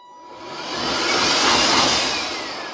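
A Bauer cordless workshop blower spins up and runs with a loud rushing whoosh of air that swells and holds steady, heard close.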